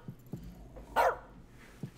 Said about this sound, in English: You, keep that dog quiet.